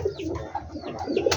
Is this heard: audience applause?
no